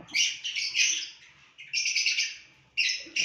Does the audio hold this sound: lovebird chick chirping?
yes